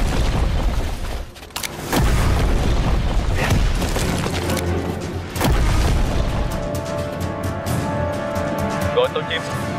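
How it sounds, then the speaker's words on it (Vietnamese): Heavy, booming explosions thunder with deep rumbles and sharp blasts, one around the start and another midway, followed by rumbling debris and ringing tones. "Nghe thấy tiếng nổ từ hướng đông bắc"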